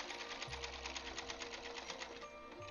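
A computerized sewing machine runs steadily while stitching for quilting, a rapid, even mechanical whirr with a fast rhythmic needle pulse, close and clear, with brief shifts in motor pitch.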